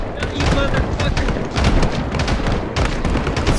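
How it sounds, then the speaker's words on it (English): Dense, continuous video game gunfire and booming blasts fill the scene, loud and chaotic, with voices mixed underneath. "Gunfire."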